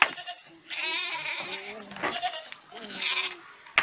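Goats bleat several times in wavering, nasal calls at close range, one after another with short gaps between them.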